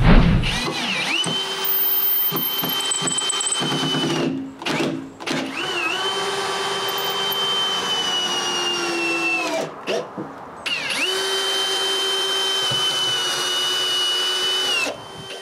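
A cordless drill drives screws into vertical 2x4 wood pieces for a firewood shelter, whining loudly and close in several long runs broken by brief stops and changes in pitch.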